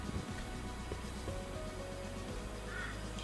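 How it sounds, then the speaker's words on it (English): Crows and other birds caw and call together outdoors, a continuous busy chorus of overlapping calls at moderate distance with no clear pauses. "Do you not like the sounds of all those birds? There's too many birds."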